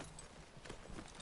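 Horse hooves clip-clop in The Last of Us Part II, a faint, quick run of soft hoof beats over a low noisy backdrop with no talking.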